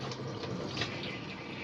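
Lukewarm water is poured into a bowl of yeast for momo dough, giving a brief, continuous rushing splash at moderate volume with no talking.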